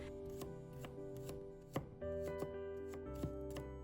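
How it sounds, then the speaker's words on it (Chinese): Garlic cloves being minced finely with a kitchen knife on a board: a series of sharp, separate chopping knocks at an uneven pace, close and fairly quiet, over a steady tonal background. "然后我们把它剁成蒜末，蒜末我们要剁细一点"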